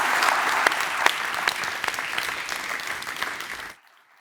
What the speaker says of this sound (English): Huge round of applause, everyone, for Steve Wozniak.